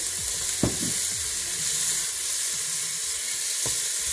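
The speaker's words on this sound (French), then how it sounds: "Je fais revenir les oignons dans l'huile" Onions frying in oil for a pumpkin soup, a steady close hiss of sizzling with a few soft knocks of stirring, with no one talking.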